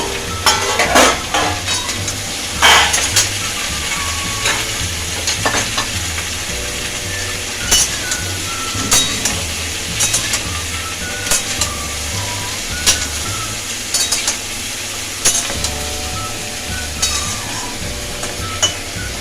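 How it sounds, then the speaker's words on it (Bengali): Vegetables stirred in a hot pan for a fish-oil vegetable dish, a steady loud sizzle with repeated scraping strokes of the spatula and sharp clicks against the pan, continuing without talk. "আবার সবজিটা একটু নাড়িয়ে দেবো"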